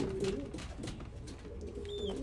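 Young pigeons coo softly in a loft, low murmuring calls repeating against a steady background hum.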